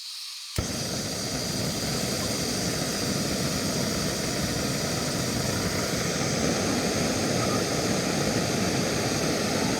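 A steady, loud roaring hiss from a canister camping stove boiling a small pot of water starts abruptly after a brief pause and holds constant throughout.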